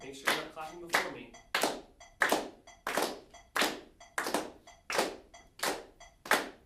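Steady, evenly spaced group claps land together in time with a metronome, crisp and close, following a short spoken count-in at the start.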